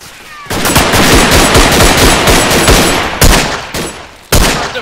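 Loud, close machine gun fire in the World War I shooter game Verdun: a long rattling burst that breaks off briefly, resumes, then fires one more short burst.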